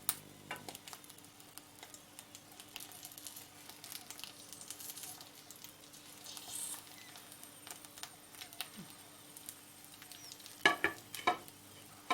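Green peppers frying slowly in a pan over low heat, a steady soft sizzle with small ticking pops and a few sharper crackles near the end.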